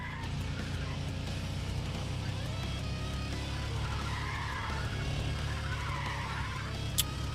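Chevrolet Chevelle muscle car engine in Need for Speed ProStreet, a continuous deep rumbling roar with tire squeal and skidding, steady and loud throughout.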